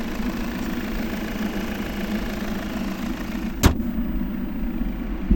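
The 2.0-litre D4 diesel of a 2016 Volvo V70 idles with a steady low rumble and a faint mechanical clatter. One sharp click cuts through near the end, and no one speaks.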